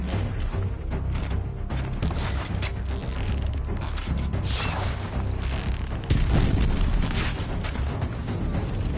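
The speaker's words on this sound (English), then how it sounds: "An explosion." Explosion in Horizon Zero Dawn, a dense, continuous roar of booming and creaking mechanical rumble with a sharp louder surge partway through, loud and sustained throughout.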